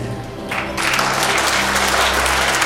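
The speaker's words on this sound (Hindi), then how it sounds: "और ताली कमजोर है।" Congregation clapping during a Hindi church sermon, starting thin and swelling into steady, dense applause after the first second, with faint background hum.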